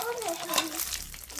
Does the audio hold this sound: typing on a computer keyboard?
no